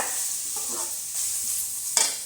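Masala rice is mixed in a pan with a soft hiss and a few light scraping strokes, one sharper clink near the end, close and quiet with no voice.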